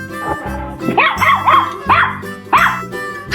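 A dog in a 3D animal slide video game barks several times in quick, yappy bursts, loud and close over game music.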